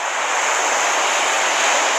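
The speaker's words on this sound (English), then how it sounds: "Today, 8-foot waves are crashing over the bike path at Chicago's lakefront, drenching cyclists and joggers." Eight-foot waves crash along Chicago's Lake Michigan lakefront over a bike path, a loud, continuous roar of surf and spray, dense and unbroken throughout with no voices.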